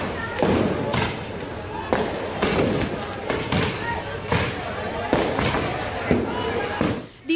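Firecrackers burst repeatedly during a street riot, with sharp thuds and pops following one another in an irregular, crowded rhythm over a constant rumble of crowd noise.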